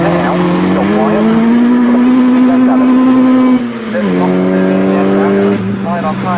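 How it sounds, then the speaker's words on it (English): A Cooper S race car at Snetterton circuit passes close by with a loud, sustained engine drone whose pitch climbs and dips through gear changes, with a commentator talking over it. "here comes the 17 now. John Wyatt special liveried Cooper S"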